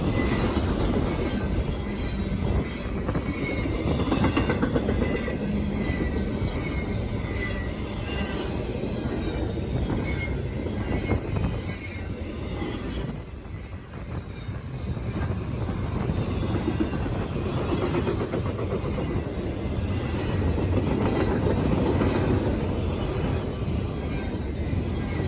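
A CSX freight train rolls past on the railroad tracks at Berea, Ohio, a loud continuous rumble of wheels and cars with light squealing, steady for the whole stretch.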